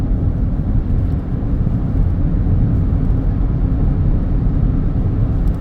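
A Renault Grand Koleos hybrid accelerates in a straight line, heard from inside as a loud, steady low rumble of road and drivetrain noise with no talk over it.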